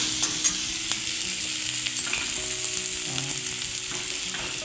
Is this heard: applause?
no